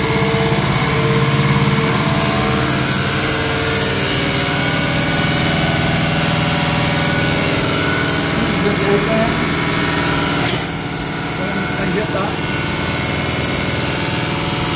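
A steady mechanical whine and hum of a Toyota Hilux SR diesel injection pump running on a test bench at 1,200 RPM, loud and constant, with one sharp click partway through.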